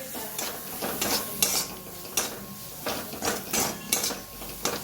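Potato samosa stuffing masala, seasoned with salt and amchur powder, being stirred and scraped in a pan, making repeated clinking, scraping strokes in an uneven rhythm, close and fairly clear with no talk.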